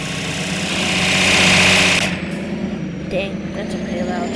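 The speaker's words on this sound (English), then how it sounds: "Dang, that's a pretty loud tractor." Tractor engine idling loudly and close by, a steady rumbling drone that swells in the first two seconds and then settles lower, with a few faint background sounds.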